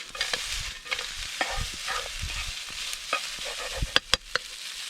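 Cooked marron pasta tossed in a hot pan outdoors by a river in Western Australia, with a steady soft sizzle and intermittent scraping stirs and sharp metallic clinks from the pan, near and alone.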